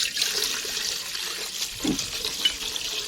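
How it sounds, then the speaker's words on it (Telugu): Water is poured into a cooking pot on a wood-fired stove while making chicken dum biryani, a continuous splashing gush that stays at a steady moderate level. "ఎసరికి నీళ్ళు పోతుండు చూడు"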